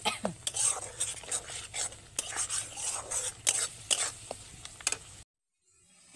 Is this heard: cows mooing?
no